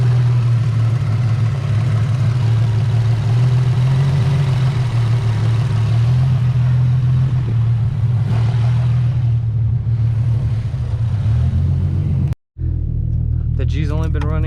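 A Nissan G35 Nismo HR running steadily, its engine a loud, continuous low rumble up close, cut by a brief dropout near the end before the drone resumes and a voice begins.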